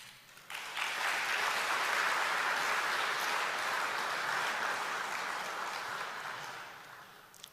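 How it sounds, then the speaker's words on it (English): An audience applauds at a presidential meeting with chief executives of state entities in Ghana. The sustained, even clapping swells quickly and then fades gradually near the end. "I'm happy you clapped"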